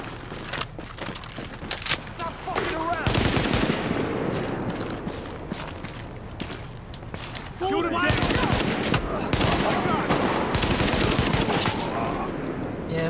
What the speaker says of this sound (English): Let's get the AK back on.